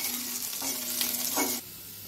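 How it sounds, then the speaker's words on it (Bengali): Chopped garlic fries in oil in a pan over a low gas flame while making dal fry, giving a soft close sizzle with stirring scrapes that stop abruptly near the end. "রসুন কুচি দিয়ে নেব, গ্যাস কমিয়ে এটাকে ফ্রাই করতে হবে।"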